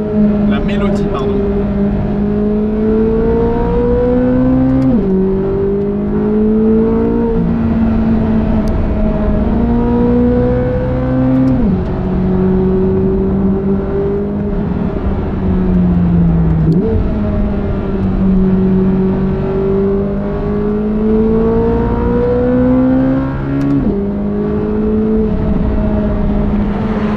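A Corvette C8 Z06 with its naturally aspirated V8 engine revving loudly and steadily, pitch climbing and dropping in repeated gear-like sweeps, with speech likely running beneath it.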